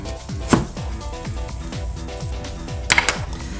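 A knife cuts salmon fillet into thick slices on a cutting board, with a series of soft, evenly spaced thuds as the blade meets the board, two sharper knocks standing out.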